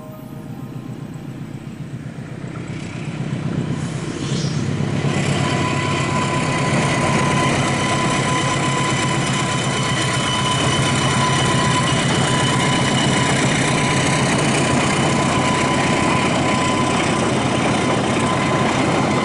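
Mutiara Selatan passenger train on its first run from Surabaya toward Bandung station, a loud, steady rumble of engine and rolling wagons building after a quieter start and holding close and continuous, with no talk.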